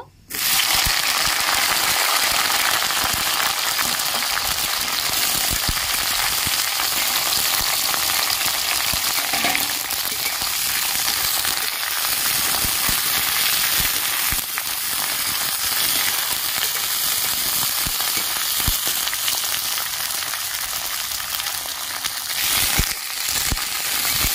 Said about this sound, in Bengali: কড়াইয়ের তেল গরম হয়ে গেছে, আমি কালো জিরে ফোড়ন দিয়ে দিচ্ছি। ঢেঁড়সগুলো আমি ভেজে নেব।